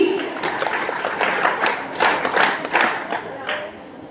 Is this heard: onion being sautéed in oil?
no